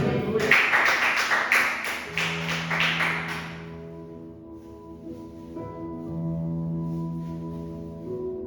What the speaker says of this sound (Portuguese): Quantos podem aplaudir ao nome do Senhor?